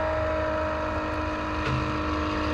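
A Milwaukee M18 2771-20 transfer pump runs steadily while pumping oil out of a jug, giving a loud, continuous mechanical whine and hum close by with no speech.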